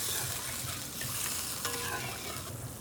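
Water poured into frying masala in a wok while cooking a Bengali egg curry, giving a steady broadband sizzle with stirring scrapes that holds at an even loudness throughout, with no talking.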